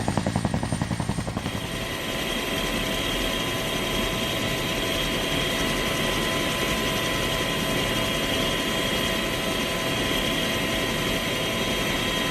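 A Bell 212 helicopter on a frozen airstrip in winter Greenland near Tasiilaq: a loud, steady turbine whine and rotor drone, with rapid chopping pulses at first that smooth into a continuous roar throughout.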